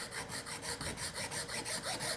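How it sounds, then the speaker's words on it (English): A hacksaw cuts through a push pole at close range, giving a steady back-and-forth rasping with about a dozen even strokes, heard alone. "Taking our hacksaw, laying it on the tape line edge,"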